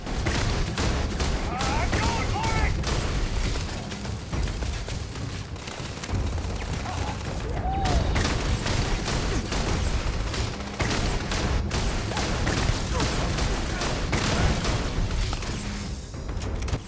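Gunfire and turret shots from combat in Starfield, a dense, continuous barrage of loud shots and booms running the whole time with a voice talking over it.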